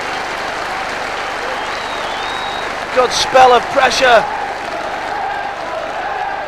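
Football crowd at Wrexham's ground during an FA Cup third-round tie against Middlesbrough, breaking into a short burst of applause and cheering over steady stadium murmur, with a commentator talking over it.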